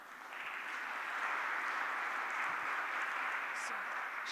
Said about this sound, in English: let us express our gratitude to the 5 panelists, speakers with a warm applause